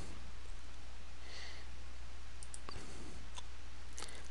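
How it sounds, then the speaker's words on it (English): A few faint mouse clicks, one on a search button, sounding as quiet, isolated ticks over a low steady hum in a quiet room. "Just click on the search button."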